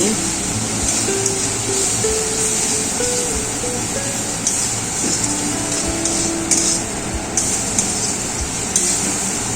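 Poppy seed, cashew and green chili paste stirred in a pan for a fish curry, a steady close sizzling hiss with faint scraping running throughout, a soft voice over it.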